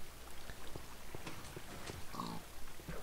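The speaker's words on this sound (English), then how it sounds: "What we have here is a bunch of pigs." Pigs oinking in the Minecraft video game, with short grunting calls that repeat irregularly over a steady game background and no one speaking.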